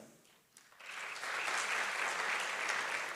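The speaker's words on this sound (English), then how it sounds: "Another big round of applause to our guest colleagues." An audience at an education awards ceremony breaks into applause for guests, swelling from near silence into a sustained, even wash of clapping heard from a moderate distance.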